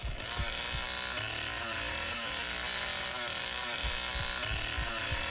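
A chainsaw runs continuously in the Texas Chain Saw video game, a loud, steady buzzing engine with repeated revving surges, heard alone without speech over it.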